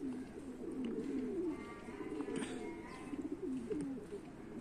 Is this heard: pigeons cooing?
yes